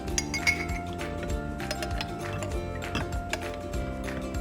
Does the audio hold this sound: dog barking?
no